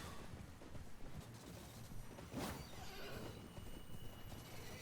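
A horse whinnies once in the middle in Elden Ring, a short rising neigh over a constant low rumble of game ambience as a mounted enemy is knocked off.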